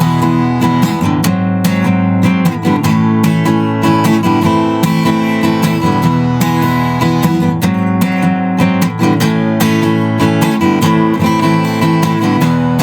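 Chorus of a song on guitar: dense, evenly strummed chords at a constant loud level, played solo with no talking throughout.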